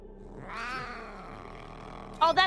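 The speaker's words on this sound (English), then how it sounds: "Oh, that's my cat." A pet cat meows twice, close by: a drawn-out mew first, then a short, sharper one at the end, over a quiet room.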